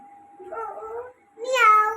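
Two short recorded meows from a child's alphabet toy, clear and close, the second brighter and louder than the first, with nothing else around them.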